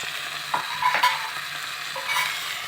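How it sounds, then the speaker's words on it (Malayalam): Tomato and ginger paste sizzling in a frying pan as a spoon stirs it, a soft steady hiss broken by a few scraping strokes, close by with no voices. "ഇഞ്ചി പേസ്റ്റ് ഇട്ടിട്ട് നന്നായി ഇളക്കുക"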